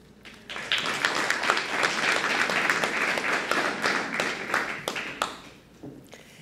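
Steady audience applause at a community election debate, many hands clapping at once, fairly close and sustained for several seconds before tapering off.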